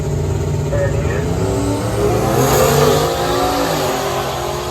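Turbocharged 1999 Camaro race car on the left side of a drag strip building boost, a loud, steady engine roar with rising harmonics and a broad blowing whoosh throughout, under a busy track announcer-style background.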